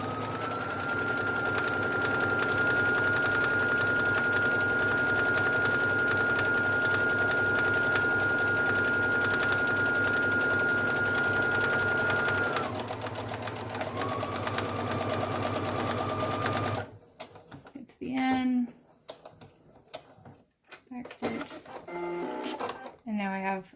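A sewing machine stitching fabric layers for a face mask runs in a steady, fast whir for long stretches, pauses briefly and restarts, then stops while someone talks.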